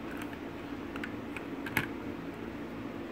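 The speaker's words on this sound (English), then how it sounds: "Philips SBK8401B, cheap mechanical keyboard." Typing on a cheap Philips SBK8401B mechanical keyboard with blue switches, a steady stream of clicky keystrokes close up, with one sharper louder clack near the middle and no talking.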